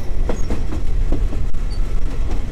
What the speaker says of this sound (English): We get to stand outside of the train.